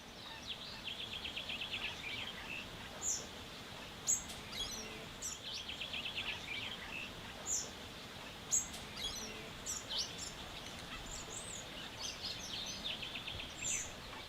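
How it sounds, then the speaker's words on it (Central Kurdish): A migratory bird in the Qaradagh mountains sings in the open, its short, high chirps and phrases repeating at intervals over a steady, rushing outdoor background. "کەنەسمە باڵندەیەکی کۆچەریە و لە ناوەڕاستی مانگی نیساندا لە کیشوەری ئەفریقاوە ڕوو دەکاتە ئەم ناوچەیە"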